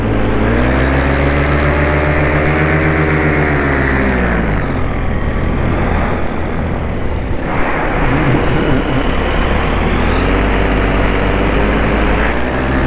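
A small aircraft engine drones loud and close while taxiing on a runway, a steady buzzing hum whose pitch dips and swells as the throttle shifts, running continuously with no pauses.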